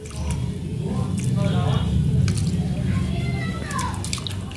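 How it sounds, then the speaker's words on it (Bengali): Soaked rice is rinsed in water, with squishy sloshing and swirling plus a few drips, close up, while someone talks over it. "চলো ভালো করে চালটা ধুয়ে নিয়ে বসিয়ে দিই।"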